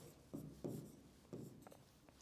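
A pen writes the definition of an electric dipole, a few short scratchy strokes close by with pauses between them and no talk over it.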